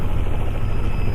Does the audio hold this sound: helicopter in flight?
yes